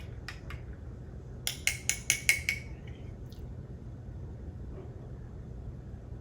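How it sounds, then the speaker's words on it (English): A spoon stirs milk into a cup of Nespresso decaf coffee, ringing against the cup in a quick run of about five bright clinks, followed by a quiet, faint background hum. "Let's give that a little stir."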